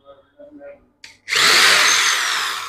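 An ACI Smart electric drill bores a hole: a few brief murmured words and a short whir come first, then the motor surges into a loud, sustained high-pitched whine that holds steady and fades slightly toward the end.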